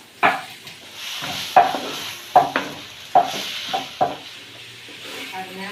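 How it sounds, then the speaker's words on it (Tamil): Ginger garlic paste and tomato being sautéed in a pan, with a spoon scraping and knocking against the pan in six or so distinct strokes over a faint sizzle; no one speaks. "இஞ்சி பூண்டு பேஸ்ட் வந்து நல்லா வதங்கிருச்சு அடுத்து தக்காளியும் சேர்த்து நல்லா வதக்கி விட்டுக்கலாம்"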